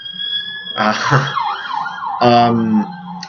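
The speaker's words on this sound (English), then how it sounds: "There you go, the siren." A warbling emergency siren from a Mario and Luigi RPG sounds in two bursts, rising and falling in pitch, loud and close with a faint voice beneath.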